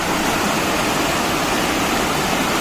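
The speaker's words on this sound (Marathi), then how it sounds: "हे सांडव्यातून पाणी वाहते" Water rushing over a temple spillway after heavy monsoon rain, a steady loud broadband roar that continues without a break.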